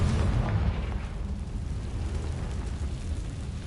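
Explosive Confringo curse cast in the wizarding game Hogwarts Legacy, a deep rumbling boom that swells near the start and rolls on as a dense, loud low-end roar for several seconds without letting up.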